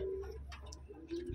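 Taiwan racing pigeons coo softly nearby, two low sustained coos at the start and end of a short stretch, with someone talking faintly underneath.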